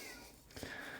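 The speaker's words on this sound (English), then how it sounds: "That's the cat in the background." A cat meows once, faint and in the background, under a steady hiss of room noise.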